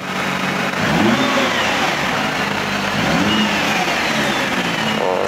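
Nissan GT-R R35 Nismo engine revving, heard from inside the car: a loud, continuous mechanical roar with repeated rising and falling rev sweeps over a steady low rumble.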